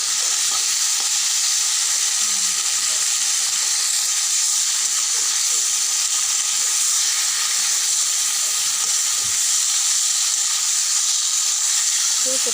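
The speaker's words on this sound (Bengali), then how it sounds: "ভাজা হচ্ছে" Sliced pointed gourd (potol) fries in a pan with a loud, unbroken close-up hiss and crackle that holds steady throughout.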